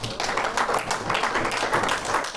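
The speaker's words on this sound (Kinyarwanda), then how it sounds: "reka tumukomere amashyi nabo bakorana bose" A church congregation claps together in a dense, continuous burst of applause, filling the short moment at a steady level.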